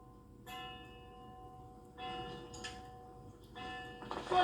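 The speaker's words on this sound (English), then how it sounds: "There's a clock chiming." A clock chiming in a quiet interior, with sustained bell-like tones sounding in three distinct strikes that ring and overlap, moderately loud and alone without talk.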